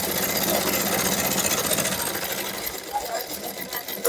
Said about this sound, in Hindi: हमें इस तरीके से सिलाई मार देनी है। अरे भाई, इस प्रकार से साथियों सिलाई लगा लेनी है।